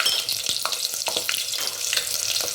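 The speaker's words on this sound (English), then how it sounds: "I'm adding the vegetable oil. And allow it to hot very well before frying your gizzard." Onion and chicken gizzard dropped into hot vegetable oil give a steady crackling sizzle with intermittent pops and stirring clicks, close and bright, no talk.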